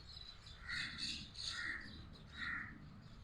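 Birds chirp in a few quiet, bright bursts spaced about a second apart, with harsh cawing calls like a crow's, heard faintly at a distance over low background hum outdoors near the Sangam in Prayagraj.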